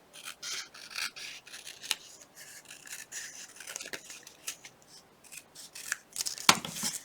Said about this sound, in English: Can't even hardly cut straight, much less round the corners.